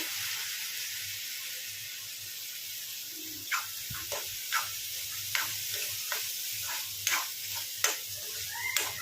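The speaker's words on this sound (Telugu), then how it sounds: "శనగపప్పు అనేది ఆయిల్లో బాగా ఫ్రై అయింది కదా" Chana dal frying in oil in a pan, a soft continuous sizzle punctuated by a series of light ticking clinks from stirring, close and fairly quiet, with no voices.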